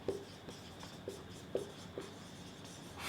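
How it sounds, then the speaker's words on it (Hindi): Chalk or marker tapping and scratching on a board while a chemical name is written out, short soft strokes in an irregular rhythm in a quiet room. "इसका नाम हम लिख देंगे"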